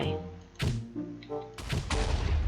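Synthetic Minecraft explosions and blasts from a weapons mod burst out in sharp bangs over a droning tone, loud and repeated with brief gaps.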